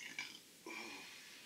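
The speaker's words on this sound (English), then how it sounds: "That would be another pepper burp." A short burp after eating peppers, a brief low belch near the middle following a faint earlier one, close and fairly quiet with no talk.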